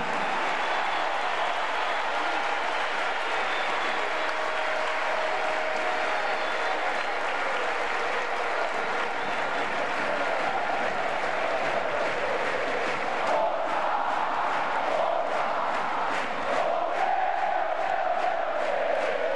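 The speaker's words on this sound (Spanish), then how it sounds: "Y aquí se viene una sonora ovación para Miguel Ángel Borja." A sustained stadium crowd ovation with applause and roaring voices for Atlético Nacional striker Miguel Ángel Borja during the 2016 final against Independiente del Valle, dense and steady throughout, swelling slightly near the end.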